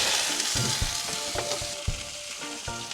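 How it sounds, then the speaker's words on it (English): Meat sears in a hot pan with a steady crackling sizzle, punctuated by a few soft knocks and stirring clatters, close and moderately loud with no voices. "it's got a pretty decent sear on it"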